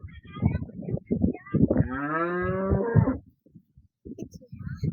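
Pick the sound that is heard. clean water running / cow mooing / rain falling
cow mooing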